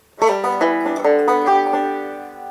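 A banjo plays a rolling pattern of quick plucked notes alternating with the thumb, bright and close, ringing out alone.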